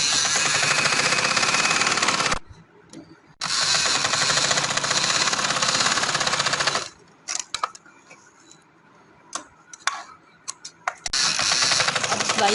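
Bursts of close, loud mechanical whirring from a sewing machine stitching magzi piping along a kameez seam, running in two long stretches separated by pauses filled with faint handling clicks.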